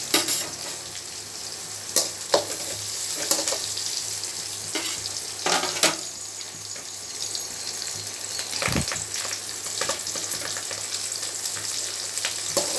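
Chillies sizzling and frying in hot oil in a pan while beetroot poriyal is made, a steady crackle broken by stirring clinks and scrapes, close and clear.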